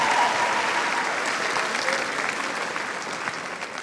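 A high school audience applauds at a spring choral concert, a dense, loud burst of clapping that fades slightly over a few seconds.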